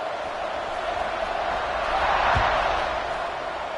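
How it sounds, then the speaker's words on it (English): Stadium crowd roaring steadily at kickoff in a college football video game, a broad wash of cheering that swells slightly midway, with a brief low thump. "this crowd is feeling themselves after that last drive"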